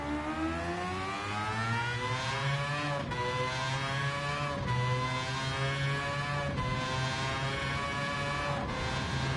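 An LM55 VGT race car in Gran Turismo 7 screams through its gears, the engine note climbing in pitch then dropping at each shift, loud and steady throughout with no talking.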